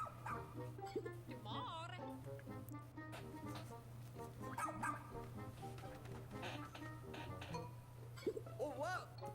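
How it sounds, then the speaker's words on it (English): A dog in a game trailer yips, whimpers and barks repeatedly over a steady electronic hum, with voices talking throughout. "Look at this dog."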